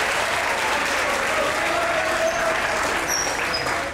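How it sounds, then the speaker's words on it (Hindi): Sustained audience applause for the women of Lahore, a dense, steady wash of clapping at full strength throughout, with a faint tone running beneath it. "लाहौर की खवातीन के लिए भरपूर तालियां।"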